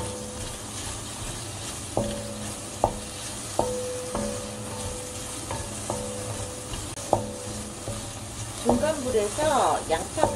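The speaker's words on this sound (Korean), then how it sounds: "중간불에서 양파가 완전히 익을 때까지 볶아주세요" Onion stir-fried over medium heat for a potato and sweet corn soup crackles in a steady sizzle, punctuated by repeated sharp metallic clinks of the utensil against the pan, growing busier and louder toward the end.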